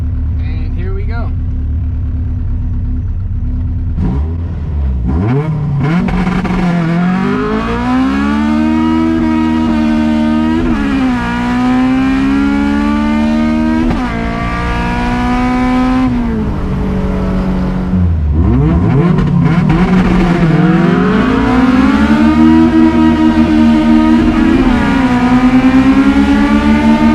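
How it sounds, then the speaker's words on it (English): An all-motor Honda CRX with a B17 engine sits on a two-step launch limiter, revving loud and close in repeated rising and falling sweeps, then holding a high, steady buzzing drone near the end. "we're gonna see what it can do off the two-step."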